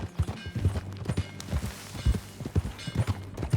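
Horse hooves clip-clop at a steady riding pace in Red Dead Redemption 2, a close, rhythmic run of hoof strikes on hard ground with no talking.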